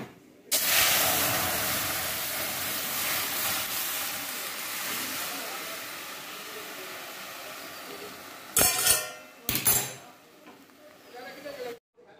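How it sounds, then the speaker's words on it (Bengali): Spices tempering in hot oil for a papaya dal give a loud, steady hiss that starts abruptly and slowly fades, followed by a few clattering bursts near the end. "পেঁপে দিয়ে ডাল করলাম, ফোড়ন দিয়ে দিচ্ছি।"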